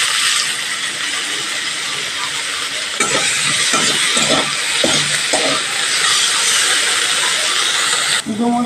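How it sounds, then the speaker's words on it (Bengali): Fig pieces frying in hot oil in a home kitchen, a continuous loud hissing sizzle with a few clattering utensil knocks partway through. "এই তেলে ডুমোগুলো একটু ভেজে নেব"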